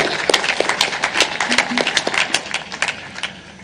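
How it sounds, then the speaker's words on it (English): Audience applause at a church gathering in Kenya, a dense wash of many hands clapping steadily and fairly loud throughout, with faint voices mixed in. "let us give once again an extra clap, Makofi, for Maurice Crowley."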